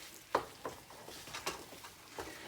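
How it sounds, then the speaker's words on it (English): Mashed sweet potatoes being stirred in a bowl, soft irregular scraping and squishing strokes of a utensil, several distinct close scrapes at a relaxed pace without speech. "I'm going to mix it up. Mix it up real good, like that."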